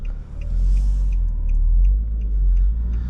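A 2009 Infiniti G37S with a 3.7-liter engine and six-speed manual gives a loud, steady low rumble from inside the car, the engine note holding strong throughout without pause.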